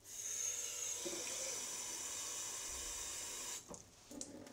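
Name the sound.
water poured into a blender for a nettle smoothie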